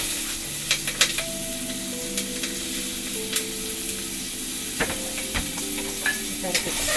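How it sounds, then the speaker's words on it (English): Garlic and onions frying in a pot, a steady close sizzle and hiss with scattered crackles and light clinks of a utensil. "Now in the same pot, I will add my garlic and onions."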